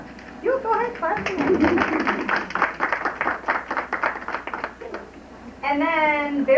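Third-grade students at a school recorder recital clap together in a quick run of loud, close claps, with a short stretch of talk in between and more talk at the end.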